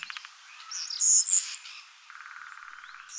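A swallow gives a short series of high chirps and twittering trills, close and clear, rising into a brief brighter squeaky burst before a fast rapid twitter closes the call.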